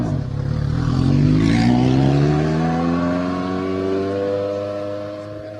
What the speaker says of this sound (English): VW disappear down the road. Central exhaust, very noisy.